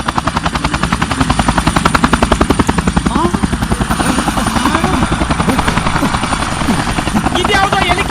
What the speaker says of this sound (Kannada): ಇದ್ಯಾವುದೋ ಹೆಲಿಕಾಪ್ಟರ್ ಸೌಂಡು?